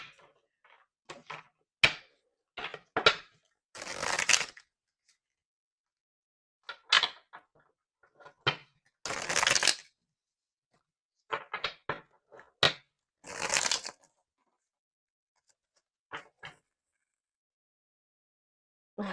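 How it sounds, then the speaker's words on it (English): A deck of playing cards shuffled by hand during a tarot-style reading, heard as repeated short riffle and snap bursts in an irregular rhythm with quiet gaps between, close and fairly clear, with no talking. "I was already seeing this card in my head while I was shuffling this deck"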